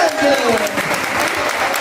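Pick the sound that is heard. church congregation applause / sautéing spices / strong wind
church congregation applause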